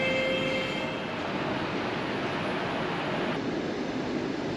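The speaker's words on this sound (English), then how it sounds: "my train has arrived onto level -2, the new platforms that have been hollowed out below the original station." Steady rumbling roar of a train arriving at an underground platform two levels below a station, with a faint high whine early on, continuous and fairly loud.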